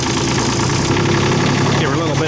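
A new Kubota 008 mini excavator's small engine idles steadily and loudly, a continuous mid-pitched drone that rises slightly as it's given a touch of throttle, with a person speaking over it.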